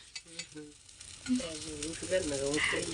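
Pudla batter frying in oil on a griddle, a soft continuous sizzle heard under someone talking in Gujarati, with her voice rising over the hiss through the second half.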